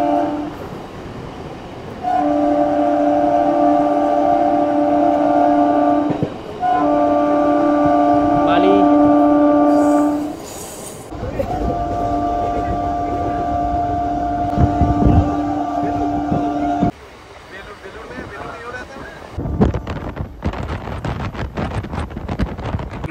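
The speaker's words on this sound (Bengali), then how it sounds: "আজকে আমাদের এই ট্রেন যাচ্ছে ভায়া কর্ড হয়ে" An EMU electric local train running on the Howrah chord line blasts its horn in long sustained tones, broken by short gaps, then rolls on with a rumbling, clattering run. The recording is close and loud, and a voice speaks briefly.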